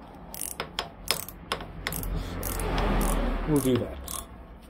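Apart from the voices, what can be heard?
wrench loosening hex bolts on a Kawasaki Z900RS motorcycle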